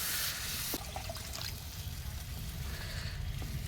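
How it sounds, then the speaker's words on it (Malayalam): Water pours steadily into a pot of homemade village-style fish curry from Palakkad, a continuous close splashing trickle over a low rumble that runs the whole few seconds without a break. "ആവശ്യമായ വെള്ളം ഒഴിച്ച് കൊടുക്കുക."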